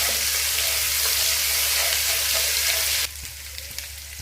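Spices tempering in hot oil for a spicy chicken dum biryani, a steady close sizzle and crackle that drops abruptly to a quieter fizz partway through.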